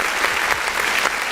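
An audience claps steadily at a podcast taping after a guest is introduced, a dense, continuous patter of many hands close by with no voices over it.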